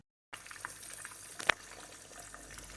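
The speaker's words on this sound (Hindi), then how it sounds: "ये फ़िश फ्राई करने के लिए डाल दी है।" Fish pieces for a potato and fish curry drop into heated oil and begin frying, a soft steady sizzle after a silent start, with one sharper pop partway through, close and faint.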